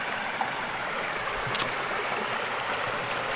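A Carpathian mountain stream flows with a steady, close rushing and hissing wash of water, continuous and alone without voices.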